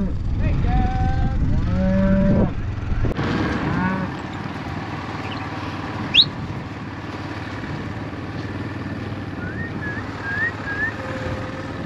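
Cattle lowing in a ranch field, several drawn-out moos close by in the first few seconds, then quieter distant calls over a low steady background hum, with a brief sharp knock midway.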